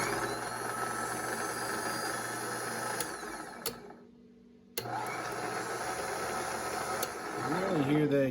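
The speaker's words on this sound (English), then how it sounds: "I really hear that gear whine in there." A Kaiser Jeep M715 engine runs with a steady mechanical hum and whine, cut off briefly near the middle before resuming; close and continuous, with some background talk.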